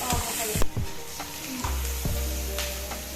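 Onions frying in a pan with chili, meat masala, ginger and garlic, a steady close sizzle with a few stirring scrapes and clinks.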